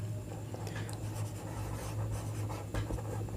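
Pen or marker scratching steadily across paper or board while sets P, Q and R are written out during a maths lesson, a soft continuous rubbing with small strokes over a low steady hum, no voices.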